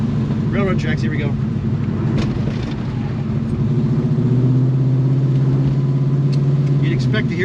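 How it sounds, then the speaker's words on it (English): 1970 Chevrolet Chevelle 454 SS with a 632ci Merlin big-block V8 driving over railroad tracks, a deep engine rumble with a rising drone partway through, under someone talking nearby. "I'm gonna hit some railroad tracks here"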